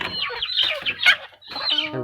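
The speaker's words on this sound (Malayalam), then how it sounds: "ഈ ഒരു മുറിയുള്ള എല്ലാ കോഴികൾക്കും ഉള്ളതാണ് നമുക്ക് അവരെ തുറന്നു വിടാം" Chickens cluck and squawk close by as a coop door is opened, a busy, overlapping run of calls from several birds with a short lull midway.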